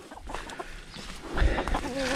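Hens and a large rooster cluck in a rural farmyard, a close, irregular series of short clucks and squawks with soft background noise and no talking.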